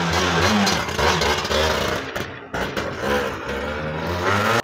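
A Ninja motorcycle engine roars close and loud, its pitch rising and falling as it revs, with a brief dip midway before surging again.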